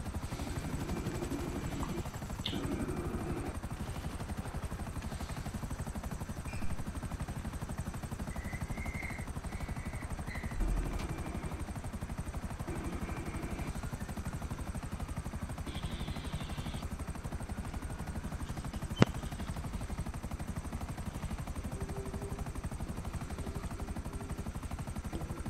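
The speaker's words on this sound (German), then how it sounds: "Ist der Heli hinter uns? Kann das sein?" A helicopter in GTA V Online gives a steady rotor thump and engine hum that continues throughout at moderate loudness, with a few faint game clicks and one sharp tick.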